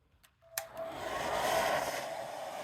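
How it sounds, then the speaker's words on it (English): A hair dryer switches on with a click after brief quiet and blows a steady, loud broadband whoosh over painted Dollar Tree Halloween cauldrons, holding constant to the end. "So like I said, use your hair dryer."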